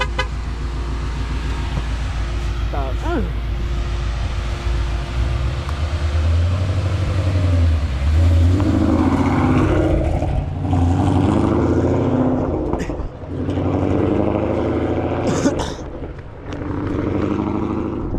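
A Ford Mustang makes a close flyby, its engine roaring steadily loud as it sweeps past, with a brief dip near the end before the noise swells again; no talk is heard.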